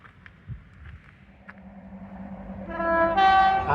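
A train rumbles past in Teignmouth, then sounds a loud, sustained horn that swells toward the end.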